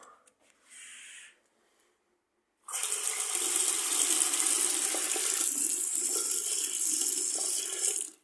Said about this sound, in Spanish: Y vamos a ver cómo funciona el grifo